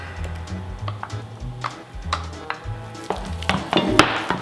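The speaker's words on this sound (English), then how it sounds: "Just want to keep stirring that in." A spoon works egg yolks and butter into mashed potatoes by hand for shepherd's pie, giving soft irregular clicks and squelchy taps that grow busier and louder toward the end.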